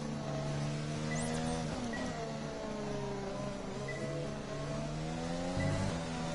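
A Formula 1 racing car engine in the F1 2020 video game at the Chinese Grand Prix whines continuously, rising and falling through gear changes as the car accelerates and brakes, heard alone without talk.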